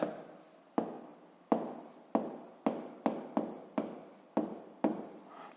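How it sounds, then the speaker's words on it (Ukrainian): Hand writing on a surface during a physics exercise, a series of about nine sharp strokes repeating at a steady rhythm, each stroke tapping and then fading, close and clear with no talk. "Записуємо, що за законом Паскаля."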